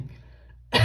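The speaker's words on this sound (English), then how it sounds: "I don't want to keep coughing throughout the message" A sudden loud throat clear bursts out near the end after near silence, a single close, harsh cough-like sound from a woman during a tarot-style love reading.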